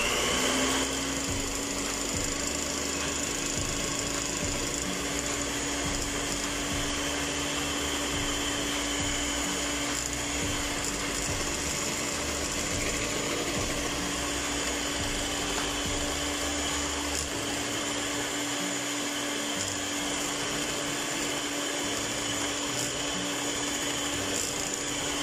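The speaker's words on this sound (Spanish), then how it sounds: "Voy a seguir batiendo y voy a estar integrando los demás ingredientes." An electric hand mixer beats cake batter made with hotcake mix, a steady whirring motor drone held close and continuous throughout with no voices.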